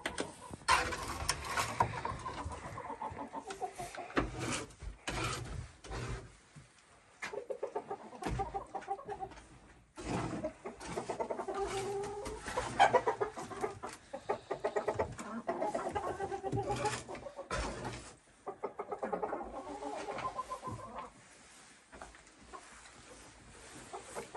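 Chickens inside a tidy coop cluck and squawk in irregular bursts. The sound is close and busy, with brief quieter gaps and some light rustling.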